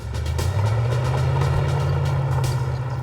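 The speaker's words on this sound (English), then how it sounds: "An armored personnel carrier moved into position" Armored personnel carrier moving into position in a combat setting, its heavy engine rumbling low and steady at close range, with no voices over it.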